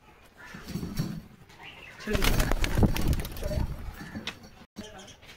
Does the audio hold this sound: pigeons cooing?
yes